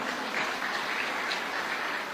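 Dense, continuous applause from a crowd, steady and fairly loud throughout with no voices standing out.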